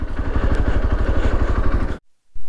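A motorcycle engine idles on a rough off-road trail near Murguma Dam, a steady, close, rhythmic throb that runs for about two seconds and then cuts out abruptly, leaving near silence.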